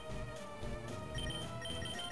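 An electronic telephone ringing in a Pokémon video game, repeated chiming rings over a soft background.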